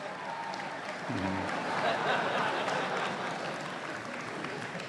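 A commencement crowd claps in a large venue, a broad continuous patter of many hands that swells briefly and holds steady, with a faint voice near the start.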